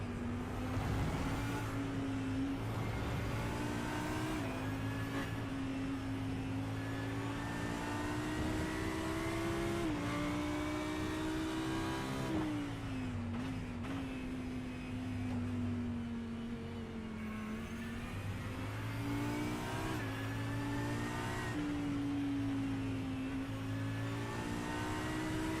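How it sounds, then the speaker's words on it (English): Race car engines at Spa Francorchamps in a DynamiXX Winter Series Cup race scream in a sustained, loud whine that rises and dips with gear changes as the cars battle close together. "Just let the engine do the talking at the moment as we watch this battle going on."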